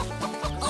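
A rooster gives short, close clucks in a brief burst over steady background noise.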